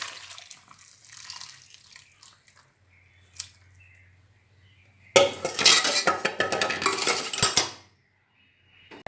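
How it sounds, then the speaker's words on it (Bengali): Water poured off boiled cabbage in a metal pot, first faint clatters of pots and utensils, then a loud rushing splash of draining water for a few seconds before it stops. "এবার আমি জল ছেঁকে নিচ্ছি"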